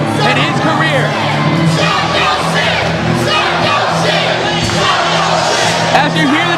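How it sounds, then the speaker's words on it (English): A wrestling arena crowd chants for Psycho Sid, loud sustained rhythmic shouting and cheering filling the hall without break. "As you hear the chant of Psycho Sid go out through the crowd"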